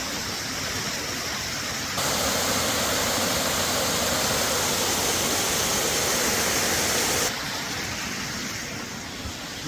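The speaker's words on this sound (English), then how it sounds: "And I can hear the waterfall." A waterfall in the Allegheny National Forest roars as a steady broadband rush, swelling noticeably louder in the middle before easing back, with no voices.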